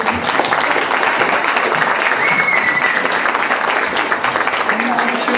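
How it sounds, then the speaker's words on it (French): Sustained loud applause from wedding guests for the bride and groom, dense clapping filling the whole stretch with some crowd noise mixed in. "Un grand applaudissement pour eux"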